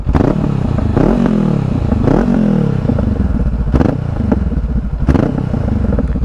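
A Honda CBR500R fitted with an aftermarket Scorpion exhaust rumbles loudly and close, blipping the throttle in repeated revs that rise and fall, with sharp crackles between pulls.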